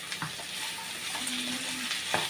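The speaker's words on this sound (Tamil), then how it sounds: "எண்ணெயிலே நல்லா வதக்கிக்கிறலாம்" Cabbage, carrot and onion sizzle in hot oil in a pan, a steady soft crackle with a few faint stirring scrapes, close and fairly quiet.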